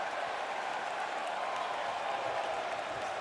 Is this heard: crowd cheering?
yes